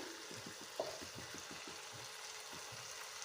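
Prawns and onions sizzling and being stirred in a frying pan for a prawn roast, a steady low sizzle with soft, irregular scraping strokes of a spoon and one small clink, no talking.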